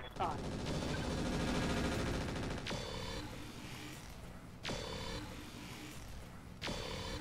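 Gunfire crackles in the tactical video game Roguepoint: a sustained dense burst of rapid shots followed by several separate sharp reports with ringing tails, loud and close amid game ambience.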